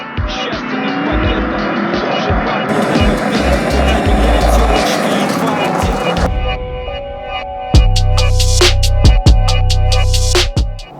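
Porsche Cayenne D3 accelerating on a rough road, with loud cabin engine drone and road roar, then a rougher patch of sharp bumps and thuds.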